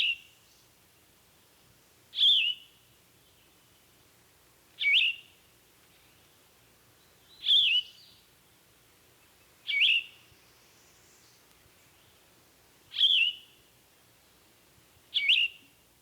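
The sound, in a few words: yellow-throated vireo song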